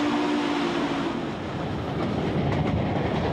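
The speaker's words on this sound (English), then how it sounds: "Pulled by a steam train from the early 20th century" Passenger train on a scenic mountain railroad, pulled by an early 20th-century steam locomotive with refurbished 1940s rail cars, giving a steady rumbling roll with faint clatter of wheels, no talk.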